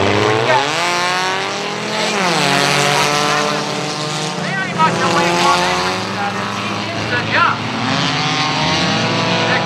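Cyclone stock cars racing on a speedway, engines roaring loudly and shifting pitch as a pack passes close by, with rising and falling whines, while an announcer talks over the track noise.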